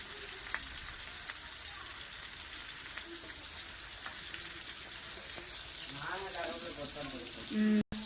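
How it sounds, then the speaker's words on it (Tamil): Quiet, crackling sizzle of fish frying in hot oil with curry leaves, spatters popping throughout and a few faint sounds nearby. "நானும் கருவேப்பிலை போட்டு தான் பொரிக்கும்"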